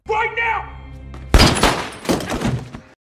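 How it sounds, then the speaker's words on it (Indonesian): Gunfire during a film shootout, a loud sudden blast followed by a cluster of sharp cracks and thuds, preceded by a voice and a tense held tone. "kepada Susan, kemudian mereka saling beradu tembak."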